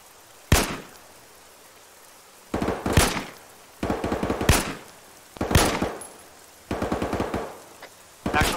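Gunfire in the Arma military video game during squad training rings out in six separate bursts of rapid automatic shots, with quiet gaps between them and no talking.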